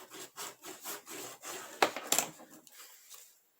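Paper being rubbed down onto a crafting surface for a Christmas mini album: a series of soft, rhythmic scuffing strokes, close and quiet, with a couple of sharper scrapes near the middle before it fades.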